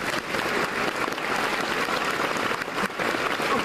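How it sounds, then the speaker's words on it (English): Dense, steady applause from a convention panel audience at the Edmonton Expo fills the whole stretch, loud and close, a continuous wash of many hands clapping with no talk over it. "I thought there was clapping for that girl"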